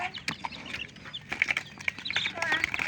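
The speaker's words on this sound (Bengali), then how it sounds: "এগুলো হচ্ছে সিল্কি মুরগির বাচ্চা" Silkie chicken chicks for sale on a farm in Bangladesh peep close by in quick, repeated high chirps, overlapping irregularly through the short stretch.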